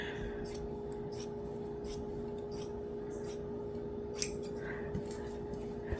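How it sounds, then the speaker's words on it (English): Scissors snipping through T-shirt fabric while a shirt is cut up the side for a quilt, a series of crisp close cuts at an uneven rhythm over quiet room hum. "I'm gonna come down here and cut all the way up the side"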